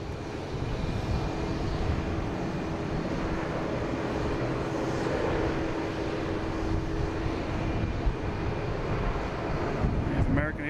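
An Airbus A330-300 jet at Boston Logan International Airport gives a steady, loud broadband engine roar that holds without a break for the whole span.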